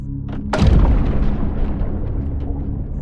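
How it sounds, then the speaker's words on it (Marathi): A single loud, close grenade explosion bursts with a deep boom, then rumbles and crackles as it slowly fades. "स्फोटांच्या आवाजान विक्रमचे कानच सुन्न झाले."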